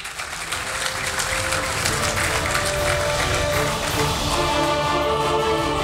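Sustained applause from an audience at an athletics referees' award night, steady and dense throughout with no talk over it.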